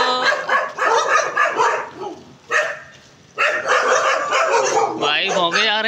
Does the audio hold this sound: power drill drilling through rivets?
no